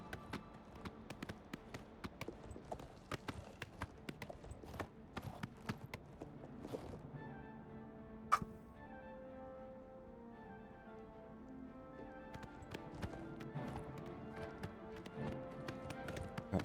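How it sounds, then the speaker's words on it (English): Shadowmere, the big black horse of the Oblivion Remaster game, galloping with steady rapid hoof clops over a running game soundtrack, loud and close throughout with a sharp accent partway through. "Shadowmere is the big one. The fastest horse in the game, and is immortal."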